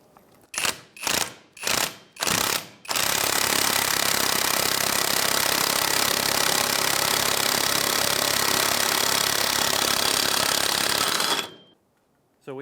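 A hub puller tool draws the rear wheel hub of a 2003-2011 Honda Element into place: four short ratcheting bursts, then a long, loud, continuous grinding drone that cuts off abruptly near the end.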